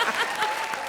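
A studio audience at a televised Hindi comedy show claps in a brief, dense burst of applause.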